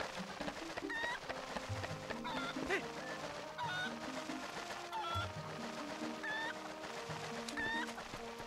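Chickens in The Legend of Zelda: Twilight Princess cluck repeatedly in short bursts over steady game background music, fairly close and clear throughout.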